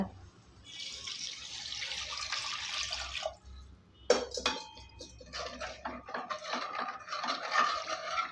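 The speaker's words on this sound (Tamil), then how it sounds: "இப்போ இதில் ஒரு நாலு கிளாஸ் அளவுக்கு தண்ணி ஊற்றிக்கலாங்க" Water pours into a metal pot of vadacurry with ginger-garlic paste for a few seconds, followed by clinking of a utensil stirring against the pot.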